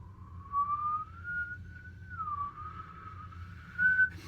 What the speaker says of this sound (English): when you're teaching yourself how to whistle, you want to practice going like this